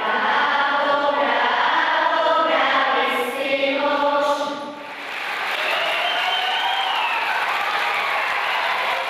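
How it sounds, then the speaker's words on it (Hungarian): Sustained applause from a crowd at a primary school, dense and even throughout, with a choir singing early before the clapping continues alone. "Óriási taps és lelkesen éneklő kór is fogadta a Váci Mihály általános iskolában Esztergályos Patrikot."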